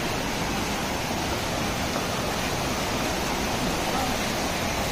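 A Himalayan mountain stream rushes continuously, a dense, steady broadband roar of flowing water close by with no other sounds standing out.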